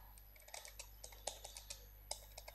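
Someone types a Google search on a computer keyboard, a quick run of light, irregular key clicks close by and quiet, over a faint steady hum, with no talking.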